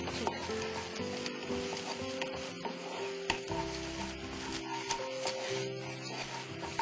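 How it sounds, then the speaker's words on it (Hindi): Onions and green chillies frying in a pan, with a soft, steady sizzle and occasional stirring scrapes and clicks, faint and continuous. "फिर काफी अच्छी तरह से हमें ये प्याज और हरी मिर्च को भूनना है"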